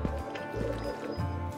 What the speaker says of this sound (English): so you just ride the waterfall down